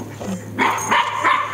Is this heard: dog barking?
yes